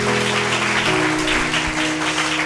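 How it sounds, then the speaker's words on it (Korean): A church congregation applauds together during a worship service, a steady dense wash of clapping that holds at an even loudness throughout. "우리 하나님께 감사와 영광의 박수 한번 올려드렸으면 좋겠습니다."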